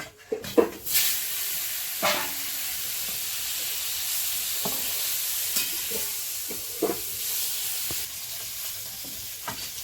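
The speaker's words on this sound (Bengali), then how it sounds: "কড়াই তেল দিয়ে দিলাম এইবার মাছ দেব" Koi fish frying in hot oil in a wok, a constant loud hiss and sizzle with occasional spatters and light utensil knocks, close up with no talking.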